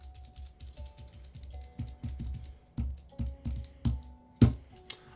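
Typing on a Lily58 split keyboard fitted with linear switches: a quick run of soft, muted keystrokes, close and fairly quiet, with a few firmer clacks and sparse rhythmic pauses and no talk.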